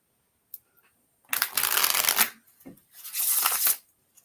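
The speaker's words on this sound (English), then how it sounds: "I'm going to show you how they shuffle real quick with the first print run" Linen-finish cardstock tarot cards from a first print run are shuffled by hand in two brisk riffling bursts with a pause between, close and crisp, after a small tap.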